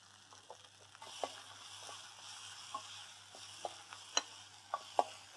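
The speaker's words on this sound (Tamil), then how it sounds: "ஸோ இதோட தக்காளி சேர்த்துடலாம். தக்காளி நல்லா வதங்கிறதுக்காக" Tomatoes sauté in a pan for a betel-leaf rasam, giving a soft, steady low sizzle with a few sharp clicks and taps of stirring spread across the clip, close by and fairly quiet, with no talking.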